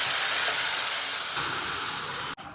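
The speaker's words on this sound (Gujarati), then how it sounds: "અને વઘાર બેટરની અંદર નાખવાનો." Hot tempering of mustard seeds, red chili powder and asafoetida poured into handvo batter, giving a loud, steady hissing sizzle that runs for about two seconds and then cuts off abruptly.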